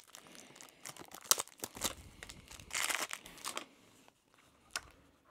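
AEW card game packs tearing open with sharp rips and crinkly wrapper crumpling in bursts, close and fairly quiet, no talking.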